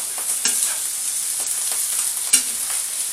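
Food, with beans, sizzles steadily in a frying pan while a utensil stirs and scrapes through it, with a few sharper clinks against the pan.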